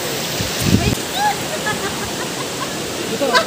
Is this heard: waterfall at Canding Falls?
yes